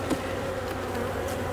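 Dense buzzing of many honeybees swarming around an opened hive being split, a continuous close hum with no voices.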